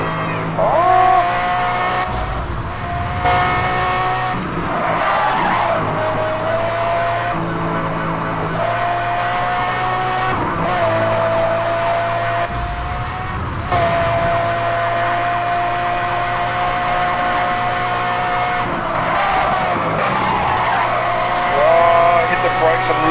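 Racing-game car engine whining through gear changes in Need for Speed Hot Pursuit, with repeated brake skids and tire squeals on corners, loud and continuous across the stretch, a siren-like tone now and then.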